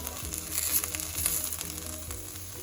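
Eggplant slices fry in oil in a pan with a steady, close sizzle, a continuous crackling hiss with small bubbling pops and no voices.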